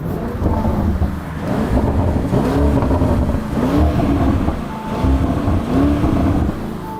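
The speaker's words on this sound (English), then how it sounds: "The car rattles quite a lot." A 650 hp Lamborghini Urus SUV idles warm in neutral, its engine a deep, loud, steady rumble with a rough, rattling beat and slight rises in pitch, heard up close with no talking over it.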